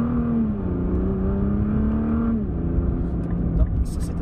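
A car engine hums and revs steadily as a traffic light turns green in Japan, its pitch holding then dropping, heard from inside the vehicle with faint background noise.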